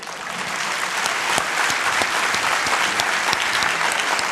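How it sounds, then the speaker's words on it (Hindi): An audience at a religious discourse gathering in India claps steadily and loudly, a dense, continuous wash of applause without pause. "थोड़ा सा ताली अच्छे से बजाओ"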